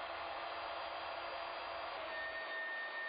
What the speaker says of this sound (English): Clamp the workpiece in place and route the second tenon.